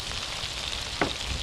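Garlic sizzles and fries in a pan over a coal pot for a Thai pork curry, a steady close hiss with a brief louder crackle near the end.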